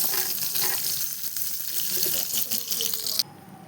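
A tablespoon of ghee sizzles in a hot pan, a loud, continuous hiss with a few scrapes, dropping to a fainter hiss near the end, with no voices.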